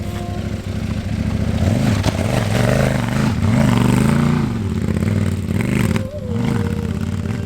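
CFMOTO 800 MT-X motorcycle with enduro tyres, dirt-bike handlebars and a missing catalytic converter, its engine running loud and close, revving up and down in repeated swells with a steady rumbling idle between.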